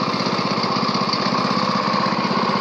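A 670cc go-kart engine running steadily at a constant throttle, a buzzy, rapid pulsing drone heard up close without any voice over it.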